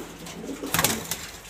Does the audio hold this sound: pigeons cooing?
yes